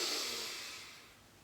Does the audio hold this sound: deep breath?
yes